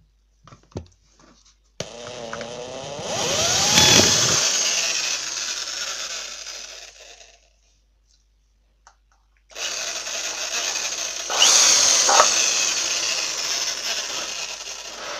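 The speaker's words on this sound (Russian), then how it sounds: "просверлить сквозное отверстие." A power drill bores a through hole in a concrete cup, running in two loud bursts separated by a short pause, with rising whine and grinding as the bit works through the concrete.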